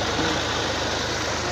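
A tractor engine idles close by in a steady low throbbing rumble, constant and unbroken, with no voices over it.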